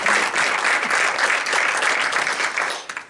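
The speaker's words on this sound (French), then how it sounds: "Oui, vous pouvez applaudir parce que je crois qu'elle le mérite vraiment." Sustained applause from a conference audience honouring a doctor named health woman of 2021-2022, dense steady clapping filling the room before thinning out near the end.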